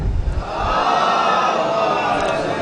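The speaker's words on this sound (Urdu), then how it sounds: "ایک باواز بلند نعرے صلوات پڑھیں" Congregation at a mosque gathering for Eid-e-Ghadeer celebration loudly chanting the salawat slogan in unison, a dense, sustained crowd roar filling the space.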